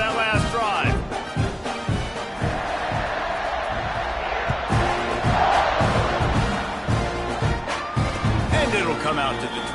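A football stadium crowd at a college game between Louisville and Texas A&M roars before a kickoff, a dense sustained wash of cheering and shouting with rhythmic thumps throughout.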